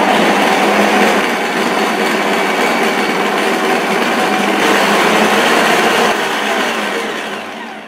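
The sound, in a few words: electric mixer beating butter at medium speed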